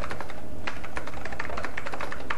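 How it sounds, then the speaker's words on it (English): Typing on a Macintosh computer keyboard, with a steady run of quick, close key clicks and no talking. "I'm actually going to use my keyboard just to show you a little bit"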